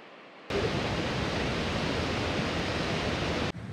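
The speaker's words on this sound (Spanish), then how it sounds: "disfrutar de esta extraordinaria caída de agua" Horseshoe Falls at Niagara Falls roars as a loud, steady broadband rush of falling water, starting abruptly and holding constant before briefly dropping near the end.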